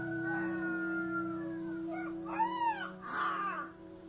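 A small dog imitating a rooster's crow, a drawn-out wavering howl that rises into warbling crow-like calls over a steady low drone, fairly quiet and alone.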